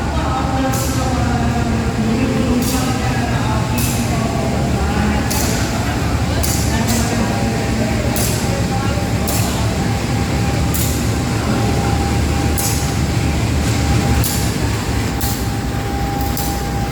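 A train stands at a station, giving off a loud, steady engine rumble and hum with a sustained tone, while regular metallic clicks repeat over it and a person speaks nearby.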